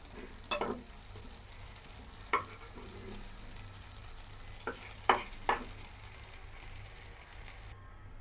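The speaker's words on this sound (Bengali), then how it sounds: "একদম কড়া করে ভাজতে হবে বন্ধুরা একদম কড়া করে" Potatoes frying crisp in plenty of oil for a Bengali alur dum, giving a soft, even sizzle with a few scattered spatula scrapes and clicks.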